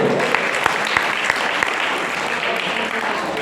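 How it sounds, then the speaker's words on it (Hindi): A women's group audience in Udaipur claps together in steady applause, with a few sharper individual claps standing out over the dense, even patter, fairly close and unaccompanied by speech. "अरे अच्छी लगे तो ताली बजाओ"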